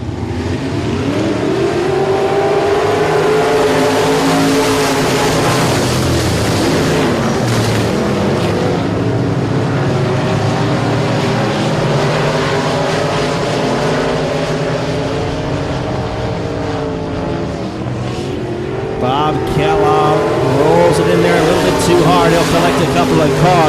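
Race cars racing at Sabine Speedway: a loud, continuous roar of several engines that swells and fades as the pack goes around the track, with a track announcer talking over it throughout.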